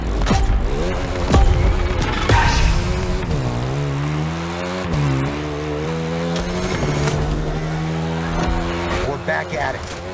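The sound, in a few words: motorbike engine revving, video game The Crew Motorfest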